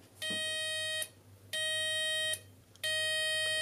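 An electronic alarm from a homemade multivibrator audio oscillator circuit switched through a relay: three evenly spaced, steady buzzing tones of about a second each, with short gaps between them, heard clearly against quiet background hiss.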